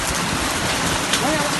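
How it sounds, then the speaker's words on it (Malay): Dense pattering of hail or icy pellets striking surfaces, a steady close rattle with faint voices and a brief whistle-like tone near the end. "Hujan es. Hujan es tu."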